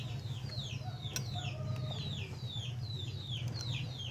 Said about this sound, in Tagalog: yung maingay ng mga sisiw kasi may mga manok tayo dyan sa paligid